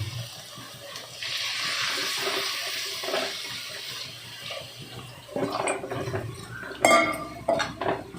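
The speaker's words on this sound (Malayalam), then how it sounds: "ഇപ്പം മുരിച്ചിട്ടുണ്ടെങ്കിൽ നമുക്കിനി ആവശ്യത്തിന് വെള്ളം ഒഴിക്കുക" Water splashes and pours into a pan of ground coconut masala for a Kerala-style pilopi fish curry, a rushing stream followed by clattering cookware and utensil knocks, with no talking.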